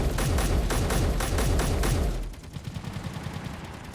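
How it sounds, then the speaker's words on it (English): Wild suppressing fire in RVs at War, rapid automatic bursts of shots stacking loudly for about two seconds, then dropping to scattered, quieter shots. "Shooting wildly, suppressing fire."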